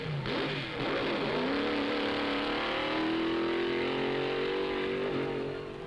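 A drag racing car accelerates hard, its engine note climbing in a loud, sustained roar with rising harmonic whine that holds steady, then eases slightly near the end.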